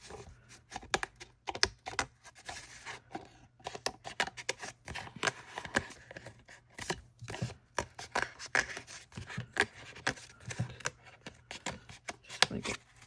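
Scissors cut paper for a craft project, making quick, quiet, close snips in irregular clusters with short pauses between runs.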